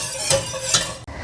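A spoon scrapes twice around a pot of cheese sauce cooking on low heat toward a boil, each stir a short soft swish with a faint simmer beneath.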